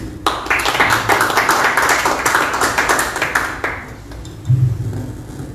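An audience at a Peruvian health-system forum claps to welcome a speaker, a brief burst of hand clapping that swells then thins out over a few seconds before fading.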